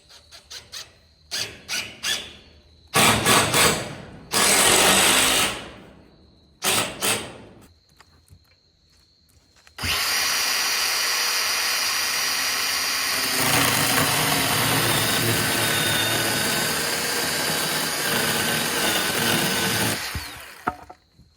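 A chainsaw cutting lumber while a goat pen is being built: short bursts of the engine revving and squealing, then a long, steady, loud cut lasting about ten seconds before it stops.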